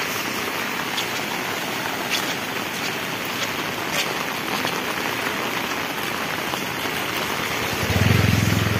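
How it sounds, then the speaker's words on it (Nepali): Steady rain pours down nearby as a dense, even hiss of drops striking surfaces, with a low rumbling swell near the end and no voices. "पानी परे"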